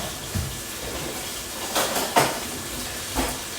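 Metal tongs clatter against a non-stick skillet while chicken piccata cooks, a few sharp separate clinks and scrapes over a steady background hiss of frying.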